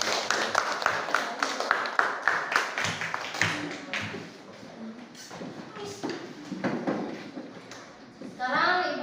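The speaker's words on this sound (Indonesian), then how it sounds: "Kasih tepuk tangan yang mulia." Students in a classroom clap in a quick, steady rhythm for several seconds. The clapping is fairly close, and a voice speaks once it stops.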